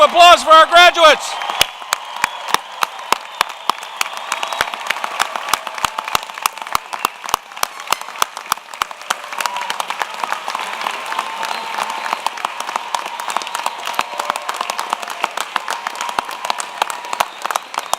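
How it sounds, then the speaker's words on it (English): Commencement audience applauding graduates at a university ceremony, opening with a brief voice, then sustained crowd clapping with sharp individual claps standing out, continuing steadily and fairly loud throughout. "please join me in a big round of applause for our graduates"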